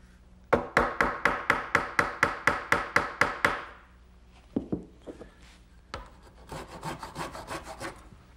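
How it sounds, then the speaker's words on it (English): A hammer drives a glued wooden dowel pin into a wooden secretary desk with about a dozen quick, evenly spaced sharp taps, then a pause and a few scattered knocks and rubbing sounds. "Just going to put a little dab of glue before I drive it in the last little bit"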